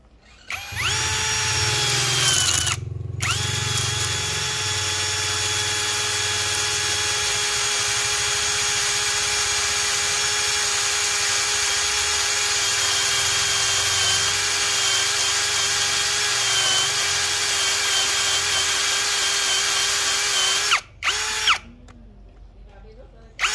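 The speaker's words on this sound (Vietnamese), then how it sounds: "Bây giờ em sẽ chuyển qua test khoan cái mũi phi 25 nhá. Mũi này là mũi đuôi cá. Và để tốc chậm các bác nhá." A Dekton 13mm three-function drill turns a 25mm fishtail auger bit into wood at slow speed, a loud steady whine with bright harmonics running nearly the whole time, briefly cutting out at the start and near the end.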